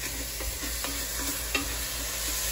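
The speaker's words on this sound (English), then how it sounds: "Give it a stir" Cumin, spices and salt being stirred in a pot of Cuban black bean stew, a soft continuous sizzle broken by a few light scrapes of a spoon, close but fairly quiet, no voices.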